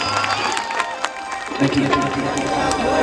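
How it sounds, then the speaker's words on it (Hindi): A crowd claps and cheers for Akhilesh Kashyap at a Bhojpuri stage event with Khesari Lal. The noise is mixed and steady, and it swells louder about halfway through. "अखिलेश जी को एक ताली बजा के अपना आशीर्वाद और प्यार दीजिए।"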